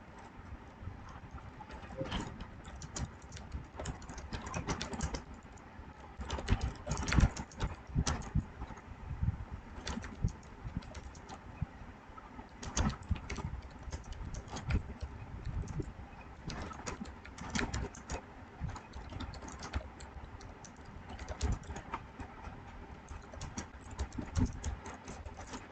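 Sentences typed on a computer keyboard, a steady run of quick, close clicks with short pauses between bursts, continuing throughout.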